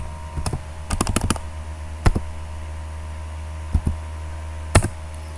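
Keys clatter on a computer keyboard as text is typed during a coding tutorial, coming in bursts of quick taps and a few separate sharp strokes over a low, steady hum, close and clear, with no voices.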